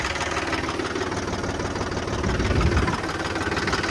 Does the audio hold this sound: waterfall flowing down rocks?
no